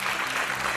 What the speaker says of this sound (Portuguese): Um aplauso para o André